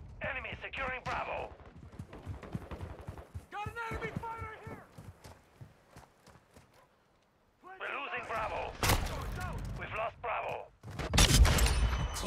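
Call of Duty Modern Warfare 2 gunfire comes in rapid bursts and scattered single shots, some close and loud, others quieter, with short gaps of near silence and voices talking over parts of the action.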